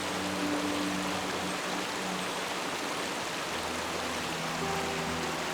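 Tay Stream flowing over rocks in mountain pasture country, a constant broadband rush of moving water, even and close, with no voices.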